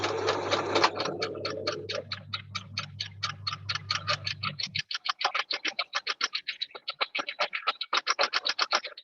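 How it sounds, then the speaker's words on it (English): A sewing machine stitches a ruffle cushion with lace, running as a rapid, steady series of close mechanical ticks that starts over a low motor hum and continues alone and clearly after the hum stops. "I'm sewing at a really awkward angle here"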